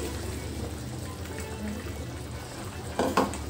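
Masala being stirred into an Andhra-style chicken curry in a pan, a steady low scraping and bubbling with a couple of louder spoon knocks near the end; no one speaks.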